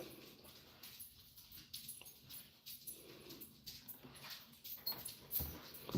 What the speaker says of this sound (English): I know y'all probably hear my dogs and stuff.